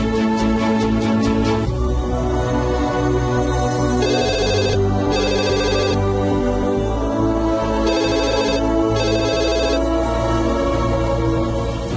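A telephone ringtone trills in repeated electronic bursts during a Telugu film scene, rising over a steady musical background with no one talking.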